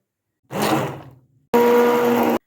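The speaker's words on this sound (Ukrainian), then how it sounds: "Взяла погружний блендер і все потрібно перебити до однорідної маси." An immersion blender whirs through cherries for jam in two bursts: a short pulse that winds down, a brief pause, then a steadier, louder high-pitched whine that cuts off abruptly.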